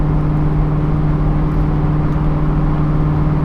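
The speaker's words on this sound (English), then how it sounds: "we're doing like 68 miles an hour and tacking about 2200 RPM" Ford Mustang Mach 1 cruising at highway speed, about 68 mph at 2200 RPM, giving a steady, loud, continuous low engine drone and road rumble from inside the cabin with no talking.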